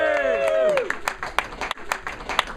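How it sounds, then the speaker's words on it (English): A live audience in Dublin claps after a voice calls out at the start, with scattered, uneven hand claps following nearby. "Tim, big round of applause for Tim"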